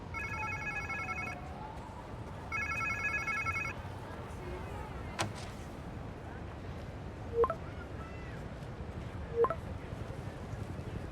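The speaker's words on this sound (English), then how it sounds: "Sounds like somebody's phone." A telephone rings twice in quick electronic trills over a faint outdoor ambience in the video game Spider-Man 2, followed by a few isolated thuds and clicks.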